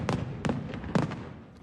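Fireworks from a display of 5,000 over Copenhagen, heard as three or four sharp cracking bursts at a distance, spaced irregularly across a low rumbling background.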